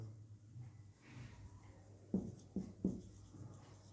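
Chalk or marker writing an equation on a board in a lecture room: three short distinct strokes near the end over a quiet, faint room hum, with no talking.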